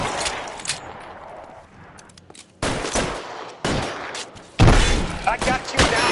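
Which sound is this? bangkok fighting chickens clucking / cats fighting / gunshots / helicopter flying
gunshots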